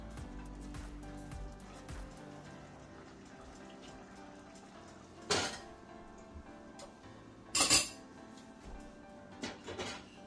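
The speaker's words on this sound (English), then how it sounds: "I'm just gonna do a stir around and show you guys everything is looking good." A spoon stirs rice and mackerel cooked Jamaican style in a pot, giving two sharp scraping clatters and a few softer knocks over a quiet, steady kitchen background.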